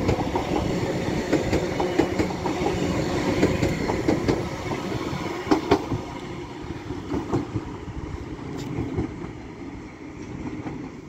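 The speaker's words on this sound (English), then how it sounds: "Getting ready to depart is a Class 331 working the 1452 Northern Service to Liverpool Lime Street" A Class 331 Northern electric multiple unit pulls out of a station on the West Coast Main Line, with steady rail rumble and clattering wheels building across the stretch, nearby and fairly loud with no talk.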